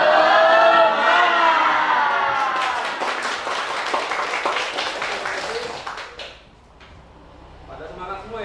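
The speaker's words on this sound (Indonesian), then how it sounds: "Coba tepuk semangat" Students in a classroom answer a teacher with a spirit clap, a quick run of sharp, evenly spaced claps after a voice speaks, then fading into quiet.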